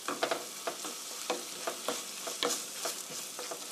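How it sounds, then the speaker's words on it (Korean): Meat sauce being stir-fried in a pan for an omelette, with a spatula scraping and tapping in a steady rhythm over a soft sizzle, close and fairly quiet. "이렇게 원미닛 1분간만 볶아주세요"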